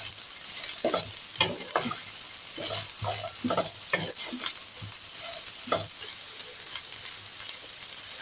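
Finely chopped carrot and capsicum fry in a pan while a spoon stirs them, producing a steady sizzle under repeated scraping strokes that come in quick uneven bursts, near and clear, with no speech.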